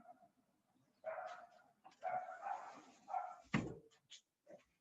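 A pet dog barks in short, sharp bursts, several barks spaced about a second apart plus a final few yips, fairly close and loud in an indoor room.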